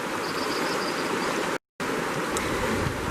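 Fast-flowing water in a channel of the Wind River rushes as a steady, dense broadband roar, close and unbroken apart from one momentary gap.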